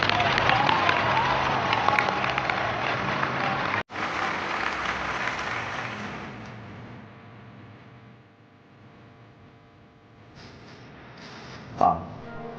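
Applause from a wedding audience greeting a company manager walking on stage, a loud crowd of clapping hands that gradually fades to quiet room noise, with a brief burst of sound near the end.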